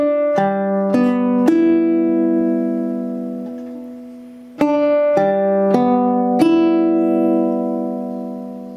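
Baritone ukulele built from high-figure black walnut from Napa Valley with a Port Orford cedar top, strummed in two sets of three ringing chords, each left to sustain and fade before the next, close and alone.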